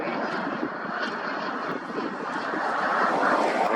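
An airplane performs a touch-and-go at an outdoor park. Its engine gives a continuous, fairly loud roar that builds gradually toward the end, with no talking.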